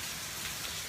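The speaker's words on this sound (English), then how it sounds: "If y'all don't hear that, that's the rain." Rain falls outside a front porch, a steady even hiss of drops on surfaces, close and continuous through a brief moment with no one speaking.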